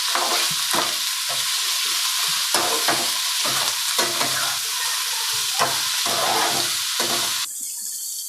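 A spoon scrapes and knocks against a cooking pan again and again as turmeric and spices are stirred, with a steady sizzle beneath, close up and with no voices.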